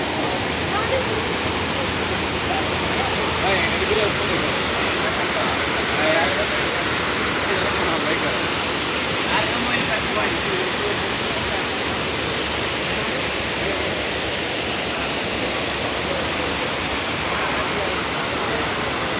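Steady, loud roar of the Cheeyappara waterfall pouring without pause, a dense continuous wash of falling water close by.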